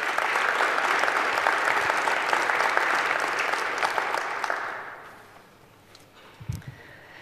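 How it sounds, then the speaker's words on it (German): An audience at the Bits & Bäume 2018 conference gives the invited speakers a warm round of applause, steady, dense clapping for about five seconds that then fades away, followed by a few faint stray sounds. "Vielleicht an dieser Stelle erstmal einen kleinen Applaus, dass sie zu uns gekommen sind"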